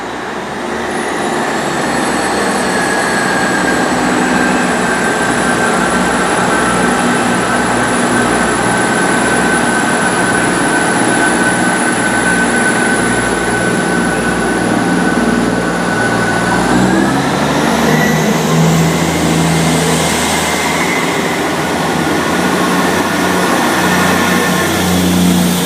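A South Western Railway service made up of class 159 and 158 diesel units pulls away from Reading station, a loud, steady engine drone with high whining tones that shift and climb partway through as the train accelerates.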